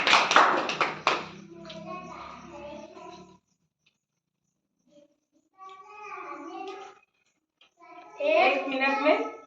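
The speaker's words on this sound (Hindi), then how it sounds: "तालियां बताइए इनके लिए।" Schoolchildren at a rural government school quiz give a short, loud round of clapping at the start, then the hall falls quiet before children's voices speak.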